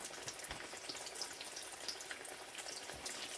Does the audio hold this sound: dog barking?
no